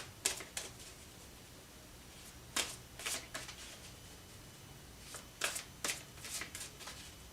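Tarot cards are shuffled by hand in quiet, brief bursts of crisp riffling and flicking, spaced apart by pauses and heard close up.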